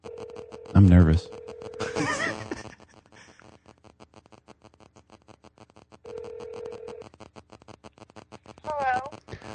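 A telephone call rings out with repeated electronic ring tones in a steady rhythm, heard over the line with a brief voice near the start and a clipped tone toward the end.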